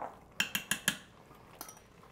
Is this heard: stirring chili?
yes